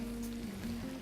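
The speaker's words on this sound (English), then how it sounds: "you can hear that sizzle" Stock sizzles in a hot pan as the browned bits are scraped up from the bottom, a brief, steady hiss and crackle at moderate volume with no voices.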